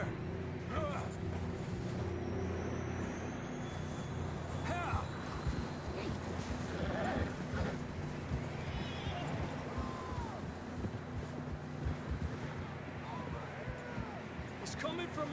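Horse hooves clip-clopping in the Red Dead Redemption 2 video game, a steady plodding rhythm of several riders under a low ambient rumble, with occasional whinnies and spoken dialogue over it.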